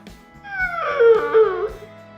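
A dog howls and whimpers in one drawn-out, rising and wavering cry lasting about two seconds, close and fairly loud.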